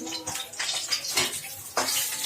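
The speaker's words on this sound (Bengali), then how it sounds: "এই উল্টে দিলাম কই মাছগুলো গরম তেলেতে, এগুলো ভাজা ভাজা হচ্ছে" Koi fish, washed and rubbed with salt and turmeric, flipped over in hot oil in a pan, giving a close, steady crackling sizzle with brief scraping clatters from the turning.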